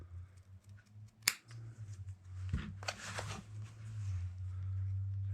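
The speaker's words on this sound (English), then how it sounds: "Now these are leather scissors." Leather scissors snip once, close and sharp, through thin leather during restoration of a pre-WW2 PAL RH-36 fighting knife sheath, followed by softer handling rustles over a low steady hum.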